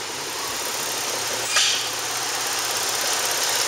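A 2008 Ford Taurus X with a 3.5 V6 and front-wheel drive idles steadily, a constant mid-level engine hum running on its own with a brief louder swell partway through.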